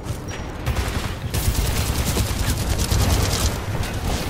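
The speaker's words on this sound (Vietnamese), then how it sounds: "Này thì súng máy nè con" Sustained machine gun fire rattles in the video game Titanfall 2 on PS4, a dense, loud stream of rapid shots that runs nearly unbroken with brief shifts in intensity.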